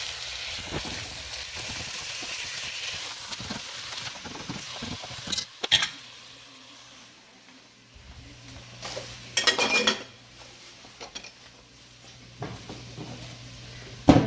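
Metal utensils scrape and clink against a pot as ground meat is chopped and stirred, with a steady low hum and occasional louder knocks.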